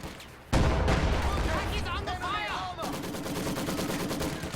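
Gunfire and cannon blasts from a tank battle in a video game, with a sharp loud burst followed by rapid repeated shots while a commentator talks over the action.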